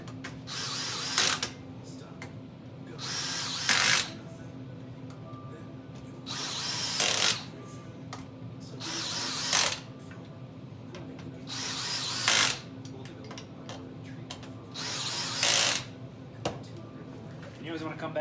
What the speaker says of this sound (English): If you go full drill, you just have to be really careful because you can actually strip the screws.